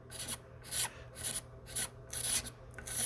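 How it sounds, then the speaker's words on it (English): A scraper works lightly over a filled paint chip on a guitar's sparkle finish, giving soft rhythmic rasping strokes with quiet gaps between them, close and faint. "I'm just scraping and following the contour."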